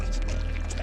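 Water pours steadily in The Mimic video game, a loud, continuous rushing stream that fills the brief moment without pause.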